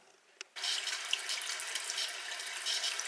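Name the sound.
water running from tap before being turned off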